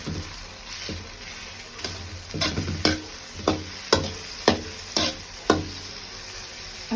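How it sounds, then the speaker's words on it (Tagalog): Tomatoes sauté in a pan for a tahong mussel dish, a low sizzle punctuated by a rhythmic series of sharp spatula scrapes and taps, close and fairly regular in the second half. "Gisa mo ng konti."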